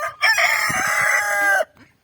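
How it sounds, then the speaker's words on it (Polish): A single rooster crows loudly and close at a poultry breeding farm, one long drawn-out call that cuts off abruptly, followed by quiet. "O, można zobaczyć jak pieje."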